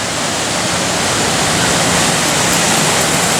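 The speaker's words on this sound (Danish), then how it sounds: "Stor vandfald her." A large waterfall at Tangle Creek roars as a constant, loud, broadband rush of falling water, unbroken and close with no voices.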